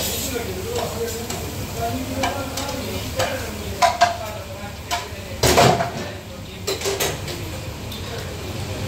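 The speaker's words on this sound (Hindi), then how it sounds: "अभी बटर चिकन जो बनेगा इससे पहले ये हाफ फ्राई कर देते हैं।" Chicken half-frying in oil for a desi ghee butter chicken karahi at a street food stall, a steady sizzle under clattering stirring, scraping and a few sharp metallic knocks, with voices around.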